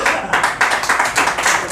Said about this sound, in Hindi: तालियां अभी आधे लोगों ने बजाई, आधे लोगों ने नहीं बजाई है